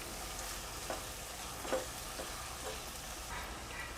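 Spinach paneer gravy masala stirred in a pan, a steady low sizzle with a few soft scrapes of the spoon spaced through the stretch, quiet and close, no talk.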